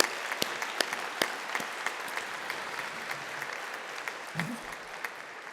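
Audience clapping at a university graduation and awarding ceremony, a steady wash of applause from a large crowd with scattered sharper claps standing out, held at an even level throughout.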